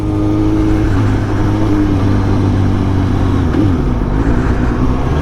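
Suzuki GSX-S 750 motorcycle accelerating hard through second to fifth gear with a quickshifter, a loud steady mid-pitched engine drone with brief pitch dips at each upshift, heard close throughout.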